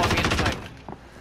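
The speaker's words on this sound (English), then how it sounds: "Oh, I'm getting sniped from the left." A short loud burst of repeated shots in a squad shooter video game that stops abruptly, followed by a single faint crack a moment later.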